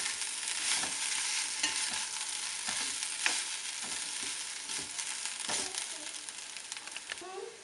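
Chicken thoran is stirred in a hot frying pan, a spoon scraping and tossing through a constant close sizzle, with occasional clacks against the pan.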